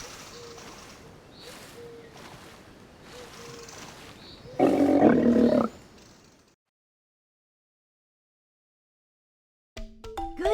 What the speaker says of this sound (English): The sea lion barks like a dog.